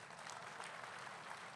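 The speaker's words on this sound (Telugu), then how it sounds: "ఏంటి చప్పట్లు కూడా ఎత్తున్నారు?" Audience at a Nara Lokesh political speech applauds, a dense continuous patter of clapping that sounds distant and fairly faint, with no speech over it.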